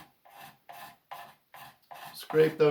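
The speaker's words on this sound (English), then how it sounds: "you come back in with your scraper and scrape those" A hand scraper rasps across a wooden chair part, taking out rasp teeth marks in short, regular strokes about every half second. The strokes are close and moderate in volume, with a louder, voice-like stretch near the end.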